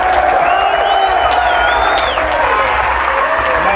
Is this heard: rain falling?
no